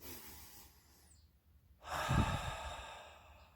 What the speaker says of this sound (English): it's good to first start to take deep breaths, long, deep breaths